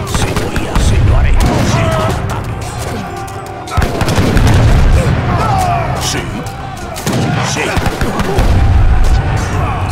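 Explosions and gunfire in the Age of Empires 3 PC game: dense, loud volleys of musket-like shots and booming blasts crackle almost nonstop, with a few heavy impacts standing out, and no voices over the battle.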